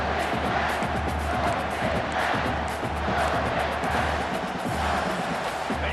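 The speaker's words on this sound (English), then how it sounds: "you just know the home crowd is loving this" Home crowd roaring and cheering in a college football stadium, Oregon against Nebraska, a dense sustained wash of many voices that stays loud and unbroken throughout.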